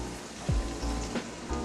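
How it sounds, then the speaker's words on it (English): A cup of water and half a cup of Pinot Grigio hit a hot pan, giving a crackling, hissing sizzle with a few sharper pops, close and steady with no talk. "we're gonna use a cup of water. Sizzle."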